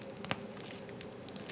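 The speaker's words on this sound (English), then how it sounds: "You hear that crunch?" Crisp crackling of an air-fried baked potato skin squeezed with tongs, a few faint, short crunches and tearing snaps, one sharper crackle near the start, in a quiet kitchen.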